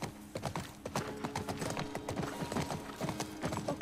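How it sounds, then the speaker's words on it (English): Rapid hoofbeats of a horse in the video game The Last of Us clatter in a steady galloping rhythm, close and even, over a faint low hum. "at least the horse is running faster now"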